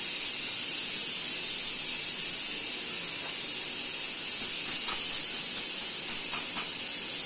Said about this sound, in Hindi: प्रेशर रिलीज हो रहा है।